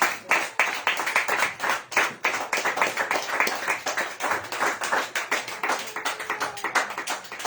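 A church congregation claps for the Lord during a sermon, many hands striking in a fast, fairly regular rhythm that runs for about seven seconds with little else beneath it.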